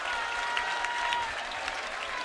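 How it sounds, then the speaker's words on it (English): Arena crowd at a Maximus fight event applauding, a steady, fairly loud wash of clapping with scattered cheers throughout. "round of applause there"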